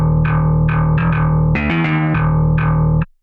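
Virtual eight-string metal guitar built in FL Studio, passed through a Sound Goodizer effect, plays a loud, chugging palm-muted riff with a sustained low drone and a short run of quicker notes near the middle, ending abruptly.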